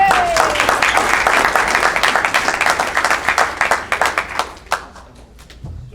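An audience at a county Republican committee's Second Amendment assembly bursts into applause, a full round of clapping that gradually thins into scattered claps and dies away near the end.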